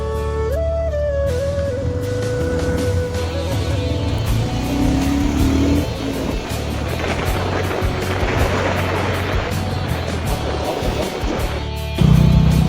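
A vehicle drives along a college road behind a scooter, with a steady, loud rumble of road and engine noise throughout and a brief tonal whine near the start.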